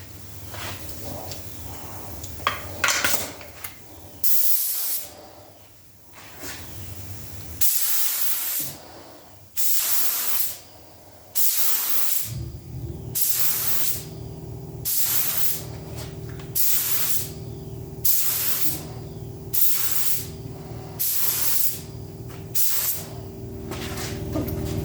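A V-Vor spray gun with a 1.4 tip at 28 PSI fogs Rustoleum pearl paint, repeated bursts of steady hissing spray separated by short pauses, each lasting a second or two, over a constant low compressor-like hum.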